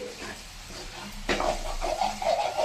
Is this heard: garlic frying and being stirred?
yes